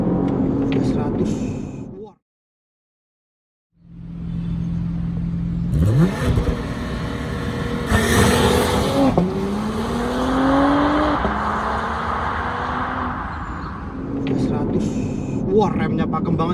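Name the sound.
Porsche Panamera 4 E-Hybrid 2023 full-throttle acceleration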